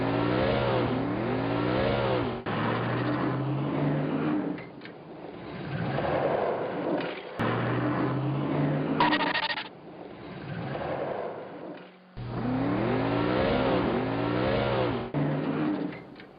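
An animated car accelerates in repeated bursts of engine revving, each rising in pitch. The loud, close bursts are broken by short pauses and shifting sounds between them.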